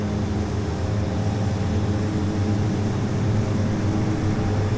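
A propeller airliner on its takeoff roll in Microsoft Flight Simulator X, on an Air Moorea flight, makes a loud, steady engine drone with a broad roar that holds constant throughout.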